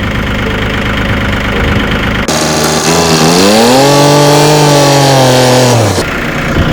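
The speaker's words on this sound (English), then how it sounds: "Time to go park my tractor now," A tractor engine runs steadily at close range, its pitch rising and then holding as the throttle changes, with no voices.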